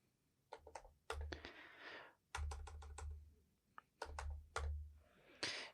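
Quick bursts of clicky keystrokes on a computer keyboard, close and fairly quiet, typed in short runs separated by brief pauses.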